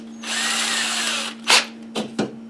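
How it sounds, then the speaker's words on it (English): A power drill with a dull bit bores a pilot hole, its motor whining steadily and close for about a second. Then come a few short, sharp bursts of the trigger over a low electrical hum, with no talk. "I don't know what size drill bit this is, but it's dull, so I have to do a pilot hole"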